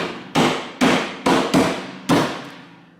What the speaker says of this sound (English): I'll just pound on it just a little bit to get those little metal spikes to poke through this upper piece